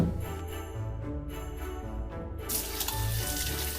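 Water runs from a tap to wet hands and a dough scraper, a continuous splashing stream with light clinks, brightening and growing louder partway through, no voices.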